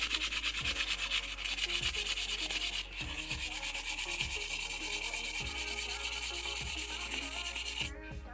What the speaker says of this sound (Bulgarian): и така продължавате да шкурите, докато не махнете всички израстъци на клон.